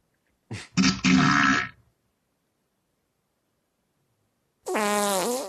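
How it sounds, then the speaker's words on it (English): Cartoonish fart sound effects played from a soundboard: a short blurt, then a longer rasping fart, a silent pause, and a final squeaky, wavering fart, all loud and close. "I forgot I have a whole page full of farts."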